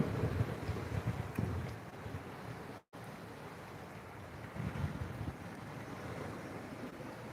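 Steady wash of water and wind noise outdoors, a continuous broadband rush with a brief dropout midway, no voices.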